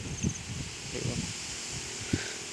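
Cool wind blows across an outdoor fish-farming pond area in rural Thailand, a steady broadband rustle of leaves and airflow with a few soft low thumps, moderately close and alone with no talk.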